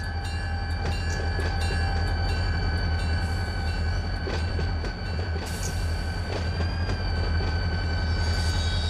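A diesel locomotive in the Run 8 train simulator gives off a steady, high turbocharger whine over a deep, loud engine drone, joined by intermittent rail clanks and rattles, with no talking.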